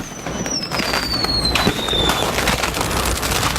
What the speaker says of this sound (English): You can hear those fireworks popping in the distance in this video.